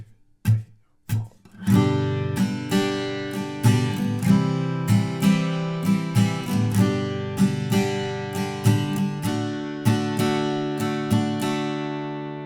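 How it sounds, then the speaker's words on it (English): Acoustic guitar strumming through the opening chord line of a song after a couple of muted starting hits, ringing chords struck in an even eighth-note rhythm, close and clear. "So if we implement that strumming pattern to each chord, the first line of chords will just sound like this."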